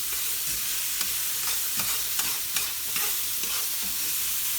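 Food fries and is stirred in a pan of leftover pork fat and a little olive oil, with a continuous close sizzle and periodic scraping knocks, no talking.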